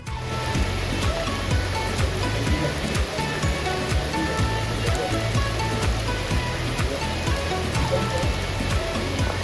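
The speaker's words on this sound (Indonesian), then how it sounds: "hujan tiba-tiba turun cukup deras" Heavy rain pours down at Bogor Botanical Garden, a loud, constant wash of water with sharp drips and splashes drumming close by on a shelter roof, continuous throughout.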